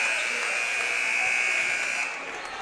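A sustained electronic buzzer blares at a high school boys basketball game, Spartans versus Longmeadow, marking the end of the third quarter; the steady tone holds for about two seconds, loud and close, then drops away into gym crowd noise.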